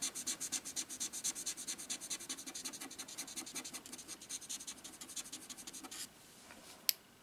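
TouchFIVE alcohol marker scribbling green grass on paper, a rapid rhythmic scratching of quick back-and-forth strokes, close and soft, stopping near the end before one sharp tap.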